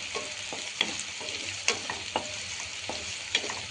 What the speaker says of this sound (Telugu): నేను సన్నగా తరుక్కున్న ఆనియన్ వేసుకుంటున్నా. స్టవ్ని హైలో ఉంచుకునేసి నేను ఫ్రై చేస్తున్నా.